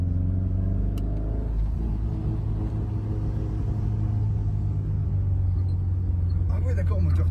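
An Alpine A110 under restoration idles with its engine running, a steady low rumble holding throughout at moderate level, while people talk nearby.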